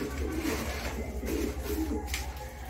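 Pigeons coo in their loft, soft low throaty calls repeating over a steady hum of background noise, close to the listener.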